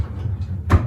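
A towel drawer in a minimalist bedroom being opened or shut, a single short muffled thud-and-slide near the end of the clip, close and fairly soft, with no talking.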